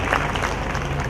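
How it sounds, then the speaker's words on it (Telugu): Audience at a Christmas celebration clapping to welcome the chief guest, a dense burst of applause from a crowd indoors, loud and close, filling the brief moment without speech. "మళ్ళొకసారి గట్టిగా చప్పట్లు కొట్టి అయ్యగారిని ఆహ్వానిస్తా"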